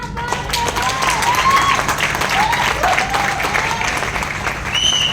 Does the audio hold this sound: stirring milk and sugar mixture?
no